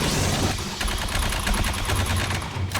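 Rapid gunfire bursts from weapons in the sci-fi shooter Aliens: Fireteam Elite, dense and loud, with repeated short bursts running almost continuously from start to finish.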